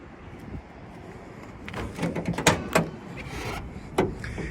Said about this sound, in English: Doors close and open real nice and simple.